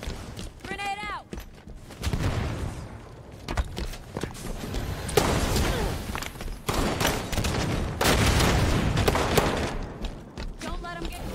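Gunfire bursts and grenade explosions in a Halo 5 multiplayer match, with rapid weapon fire, booming blasts and footsteps in dense, loud game audio, while a player talks over the action.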